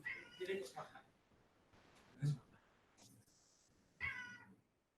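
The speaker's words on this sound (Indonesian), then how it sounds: "Ini kucing berisik." A cat meows a couple of times, fairly close, with people talking around it in a quiet room.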